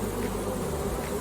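Honey bees fanning their wings at a swarm, heard as a steady close buzzing drone that runs unbroken throughout.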